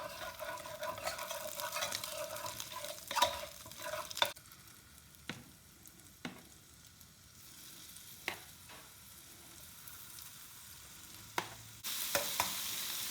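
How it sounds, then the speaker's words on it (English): Meatballs fry in oil in a pan with a quiet, steady sizzle, interrupted by several sharp clinks and scrapes of a utensil against the pan; no voices. "I'm going to put a little more oil and then I'm going to fry up the second batch."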